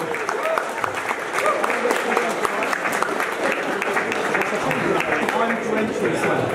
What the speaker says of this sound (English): let's give a massive round of applause to ACU and Propane